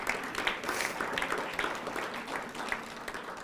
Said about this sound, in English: Give Miss Hope a big round of applause